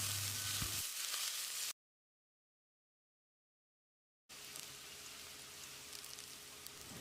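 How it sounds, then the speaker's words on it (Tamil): Two finely chopped onions with curry leaves sauté in a pan for Chettinad chicken kulambu, giving a steady, close sizzle that drops into silence mid-way and then resumes. "வெங்காயத்தை பொன்னிறமாக வதக்கணும்."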